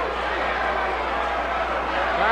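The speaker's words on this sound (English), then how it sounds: "Crowd is yelling, give him the sleeper." Crowd at a 1973 Stampede Wrestling match between The Stomper and Dan Kroffat, a dense, continuous roar of yelling fans with no breaks across the whole stretch.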